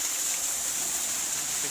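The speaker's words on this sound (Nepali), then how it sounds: "यस्तो पानी पनि झर्छ होइन घरमा है।" Rain falling at a home makes an even, continuous hiss that is fairly loud and close, with no pauses or distinct drops.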